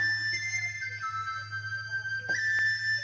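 Vietnamese zither (đàn tranh) playing sustained, pure high tones that imitate a bamboo flute, a thin whistle-like melody gliding between a few held notes over a low hum, no talk.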